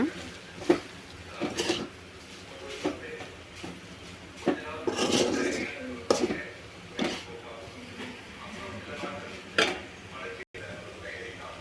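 Metal spoon stirring chili powder, garam masala and chicken powder in a pan for soy egg rice, with repeated sharp scrapes and clinks against the pan in an irregular rhythm, close by, over a faint background hum.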